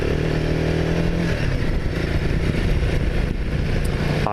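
A motorcycle rides along an off-road route through the Virginia knobs, its engine droning loudly and continuously close to the rider, with rough clattering and wind noise mixed in.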